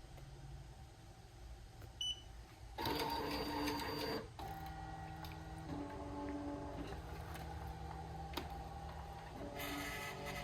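An embroidery machine tracing the outline of a design for a memory pillow patch: a steady mechanical whir with a beep, then louder bursts of motor movement stopping and starting, close up, with no talking.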